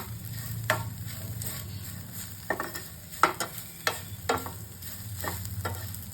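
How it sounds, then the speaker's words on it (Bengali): Neem leaves and eggplant fry gently in a little oil over low heat, a soft steady sizzle broken by several sharp scrapes and clinks of a spatula stirring the pan, with no talking. "ধিমি আছে ভাজা হচ্ছে, অথচ গোল্ডেন ফ্রাই হবে"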